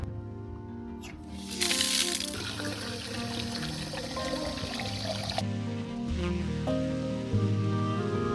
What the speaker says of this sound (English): They have these things all over, which are just like public fountains that are completely safe to drink.